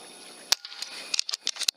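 An FX air rifle fitted with an A.E. Swede Sidewinder shroud fires a quick run of suppressed shots, sharp close snaps coming in fast succession, several in under two seconds.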